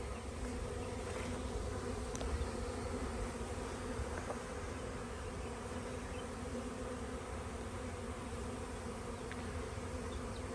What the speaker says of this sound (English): These bees look pretty happy.